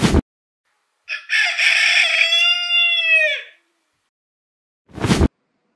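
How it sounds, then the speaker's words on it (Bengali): A rooster crows alone in one clear, long cock-a-doodle-doo lasting about two seconds, close and loud, with brief unrelated sounds before and after and silence around it. "এটা হলো মোরগ,"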